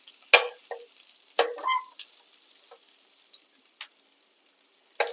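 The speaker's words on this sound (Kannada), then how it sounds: "ಈರುಳ್ಳಿ ಚೆನ್ನಾಗಿ ಫ್ರೈ ಆಗಲಿ." Onions frying in a pan for a lady's finger curry, giving scattered crackles and sizzle bursts with quiet gaps between them, close and moderately loud, no talking.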